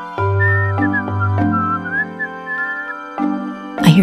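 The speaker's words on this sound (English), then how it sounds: "I hear a zookeeper whistling in my ear." A zookeeper's whistle used as a sound effect in an animated children's picture book, a clear melodic whistled tune of several sustained and sliding notes over a soft musical backing, with a brief bright burst at the end.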